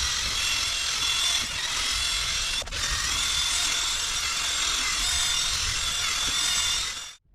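Sanding of yellowed Saab 9-5 headlights makes a steady, loud abrasive whir that runs continuously with a brief dip partway through, then stops abruptly at the end.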